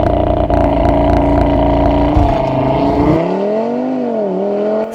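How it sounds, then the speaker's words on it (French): An Audi TT RS engine accelerating hard from 0 to 100 km/h, a loud sustained roar with rising harmonics and audible gear changes as the pitch drops and climbs again, close and continuous throughout. "Et ça va commencer par un 0 à 100 en 3 secondes 7 tout de même."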